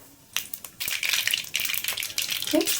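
Oil sizzles and crackles in a pan while keerai gravy is being prepared, a steady hiss that rises partway through and carries small popping bursts.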